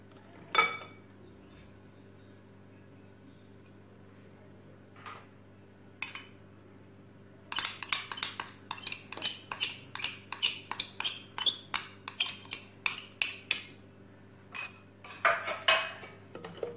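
A spoon or whisk scraping and clinking against a bowl while melted butter is folded into Nutella muffin batter, quiet at first with isolated taps, then a run of rapid rhythmic clinks, with no talk.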